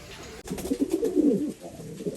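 Two-time 280 km champion racing pigeon Power G gives a close, clear cooing phrase of several soft pulses after a brief rustle, alone without talk.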